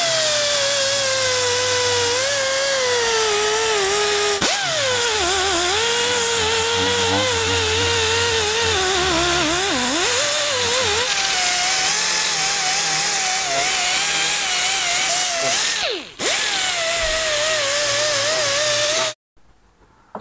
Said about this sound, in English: now I'm just gonna rough up the surface so it